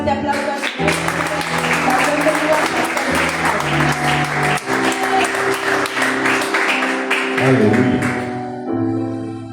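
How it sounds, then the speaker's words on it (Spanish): A church congregation claps loudly and steadily, with rhythmic clapping over sustained music tones throughout, tapering slightly near the end. "démosle un fuerte aplauso al Señor"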